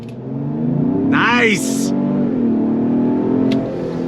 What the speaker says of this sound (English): That'll showcase the on throttle acceleration.